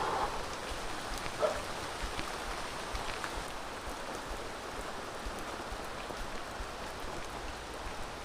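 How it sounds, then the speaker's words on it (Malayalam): Steady heavy morning rain falls on a sheet-roofed rural home, a dense even hiss that carries on unbroken from start to end, with a few brief louder knocks or drips near the beginning. "നല്ല മഴയാണ് രാവിലെ."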